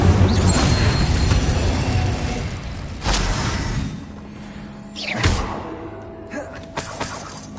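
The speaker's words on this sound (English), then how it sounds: "Incendio!" Incendio fire spell cast in Hogwarts Legacy, a loud rushing burst followed by sharp crackling impacts and swishes that fade over several seconds.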